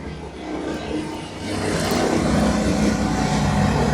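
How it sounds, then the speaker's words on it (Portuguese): A helicopter passes overhead at night, a steady loud rotor and engine rumble that swells and holds near its peak without any voices. "Aí na hora que eu começo a gravar, passa a caralha de um helicóptero."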